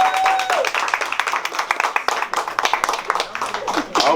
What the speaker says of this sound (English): Hand clap for you all.